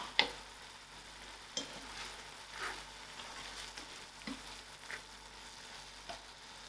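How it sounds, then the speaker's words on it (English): Smoked haddock tomato sauce is mixed in a pan over a quiet sizzle, with a few soft scrapes and taps from the utensil spaced through the faint, close sound. "I will give this a mix"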